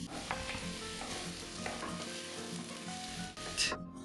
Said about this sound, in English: add it right away to the pot as soon as you see the garlic start to sizzle